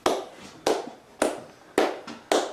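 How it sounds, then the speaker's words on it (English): Five sharp hand claps, spaced roughly half a second apart. They ring out close and fairly loud, each trailing into a short echo, in the quiet of the Blackpool Pleasure Beach. "What are you clapping for?"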